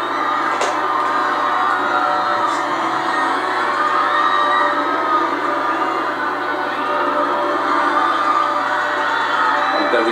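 Dense crowd cheering and whooping along the royal wedding route near Westminster Abbey, a steady continuous roar of many voices with occasional higher shouts, sustained throughout.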